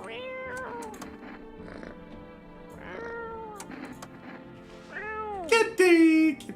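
A cat meows several times in drawn-out, rising and falling calls, the last ones louder and more strained, with a person calling to it in between.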